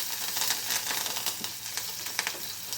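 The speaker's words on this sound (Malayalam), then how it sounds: "സ്റ്റൗ ഓൺ ചെയ്ത് ചട്ടി വെച്ചാൽ കടുക് താളിക്കുക." Mustard seeds, onion, small dried chilies and curry leaves tempering in a hot pan, a fairly quiet steady sizzle with scattered crackles and pops.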